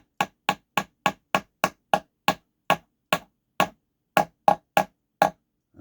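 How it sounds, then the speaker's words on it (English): A small hammer taps a wooden trunnel into a ship model's hull, a series of about fifteen sharp, crisp, close knocks in a steady rhythm with a brief pause before the last few. "Okay, tap it down in there."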